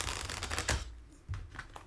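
A Crowley Tarot deck with fairly thin paper cards is shuffled by hand. Close, rapid riffling and flapping come in two short bursts separated by a brief lull.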